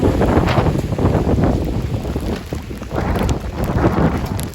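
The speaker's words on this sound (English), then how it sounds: "And the wind's blowing." Strong wind blowing outdoors on a cold smallholding by a river, a loud continuous buffeting rush across the microphone with gusts rising and falling throughout.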